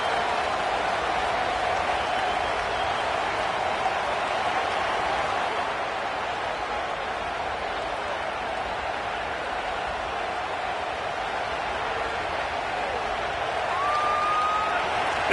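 Steady stadium crowd roar from a Purdue college football video game, a dense constant wash of distant cheering that swells slightly near the end, with commentary over it.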